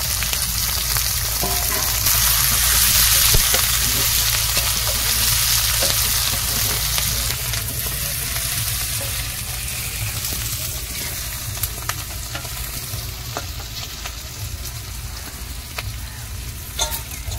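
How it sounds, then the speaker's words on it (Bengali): Green chillies, onion and garlic fry in oil in a village kitchen, a loud continuous sizzle close by that runs throughout with occasional light clicks of stirring, no voices. "আর একটু তেল দিয়ে দিল মা, কাঁচা লঙ্কা, পেঁয়াজ, রসুন সব দিয়ে দিল"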